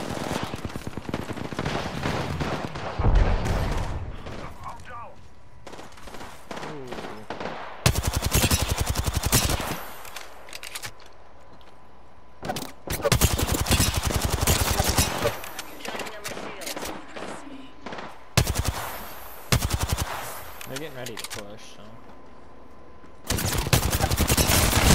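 Gunfire from Apex Legends crackles in loud bursts and sustained rapid-fire volleys, spread across the game session, while players talk in between.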